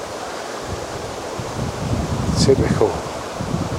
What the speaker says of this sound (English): The wind's gusting around all over the place.